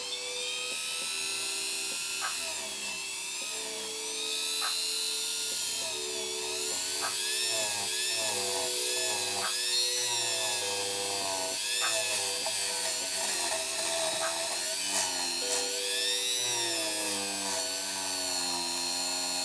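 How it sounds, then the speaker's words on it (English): A Dremel rotary tool fitted with a bristle brush cleans the edges of a Singer sewing machine, giving a close, continuous high-pitched whine whose pitch wavers as the brush presses and lifts, with no talking. "Make sure you angle your Dremel down when you get near the edge"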